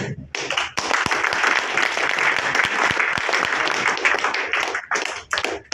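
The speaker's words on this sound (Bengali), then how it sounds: "আপনারা জোরে করতালি দেন ওনাদেরকে উৎসাহিত করেন জোরে করতালি" At an insurance company award ceremony, an audience bursts into sustained applause for the winners, a dense wash of clapping that rises quickly, holds, then breaks into a few last claps.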